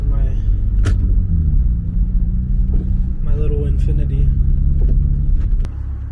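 Steady low engine rumble from a small Infiniti car as it rolls up to a 7-Eleven car meet, continuous and close, with people talking over it throughout.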